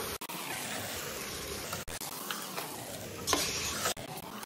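Washed rice is stirred in a pot for chicken pulao, giving a steady scraping, rustling churn over a soft sizzle of oil. It continues without pause for several seconds, with a few brief knocks and no talking.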